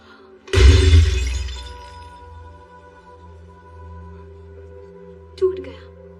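An ancient egg shatters with a single sharp, loud crack and breaking burst, its ringing fragments fading over several seconds, followed by a brief small clatter near the end.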